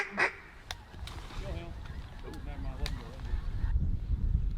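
Mallard ducks in an Arkansas slough give honking quacks, with a loud call near the start and scattered calls after it, over a rumbling outdoor background and faint human voices.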